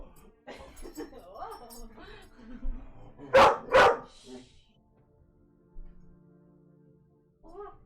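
Two loud, sharp dog barks come in quick succession, close and prominent, between stretches of people talking and yelling during a multiplayer roleplay game session on a Conan server.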